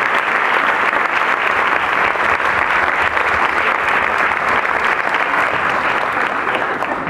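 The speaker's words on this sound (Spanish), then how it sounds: "Este es un aplauso, sí," Theater audience applauding loudly for a university folkloric ballet troupe at the opening of a monologue festival, a continuous, full roar of clapping throughout.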